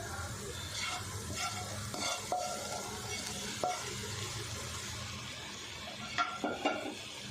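Fried potatoes go into a sizzling tomato fry in a pan for a side dish, with a steady sizzle, scraping spoon stirs and a few sharp clinks of utensils on the pan, alone without talk.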